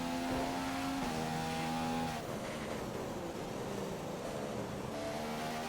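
A race car in a racing video game accelerating hard out of a corner at Singapore, with a loud steady engine note that climbs in pitch, drops at a gear change, and climbs again, with no voices.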